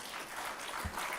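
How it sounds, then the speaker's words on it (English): An audience at a memorial lecture applauds, a faint but continuous patter of many hands clapping through the short moment. "you should clap for him, not for me, for him."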